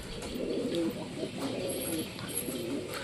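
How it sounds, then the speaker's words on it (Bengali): A Beldanga pigeon coos in low, repeated throaty phrases, with a few soft rolling calls spread across a few seconds over faint background noise. "পায়রাটা হচ্ছে বেলডাঙার পায়রা"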